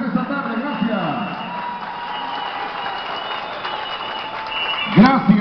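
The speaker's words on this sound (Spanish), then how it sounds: "Un aplauso para ustedes mismos presentes en esta tarde" Audience applause at a popular music festival, a steady wash of clapping that holds throughout, with a voice speaking over it and a louder burst near the end.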